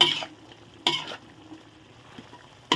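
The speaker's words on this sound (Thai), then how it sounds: "เอาปลาดุกใส่เลย ปลาดุกทอดกรอบ ใส่เลย นี่ คนใส่กันปล่อยไว้นะจ๊ะนะ" Crispy fried catfish being stirred in a pan with eggplant, short bursts of scraping and sizzle at the start, middle and end, separated by quiet stretches with no talk.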